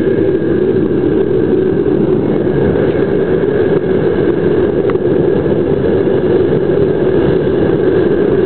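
A furnace melting gold foils recovered from e-scrap in a crucible gives off a loud, steady, low roar that holds constant throughout at close range.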